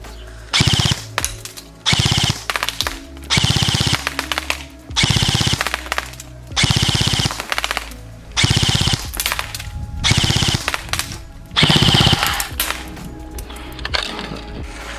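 Specna Arms SA-H12 One airsoft rifle (HK416 Delta style) firing full auto at 30 metres outdoors, several loud sustained bursts of rapid clacking shots separated by short pauses, with no talking.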